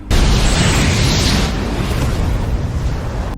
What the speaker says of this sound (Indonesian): ledakan dahsyat mengguncang gua itu